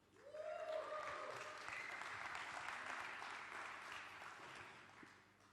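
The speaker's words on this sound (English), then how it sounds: "Your applause will get bigger as we go through the judges." A crowd at a live bartending competition gives sustained, even applause that swells quickly and holds steady. It sounds moderately distant and fades slightly toward the end.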